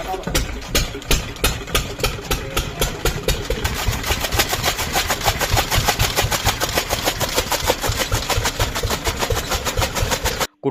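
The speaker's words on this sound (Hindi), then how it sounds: "फिर मम्मी ने इस पर दिखाई आग और फिर इंजन स्टार्ट हो गया" Fodder chaff cutter driven by a small engine in a village yard, running loud and close with a steady rapid chugging throb throughout.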